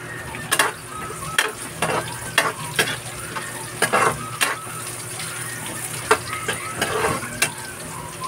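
Tuna with tomato, ginger, onion, garlic and chili being stirred in a hot pan, sharp intermittent scraping strokes every half second or so over a steady frying sizzle, close and moderately loud.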